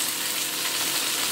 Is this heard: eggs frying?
yes